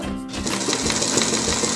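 Antique 1951 Singer sewing machine stitching, a fast continuous mechanical whirr and clatter, close and loud with no voices.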